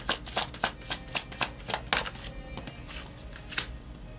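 Tarot cards being shuffled by hand, a quick run of crisp riffling bursts close to the microphone, about a dozen evenly spaced flicks that thin out toward the end.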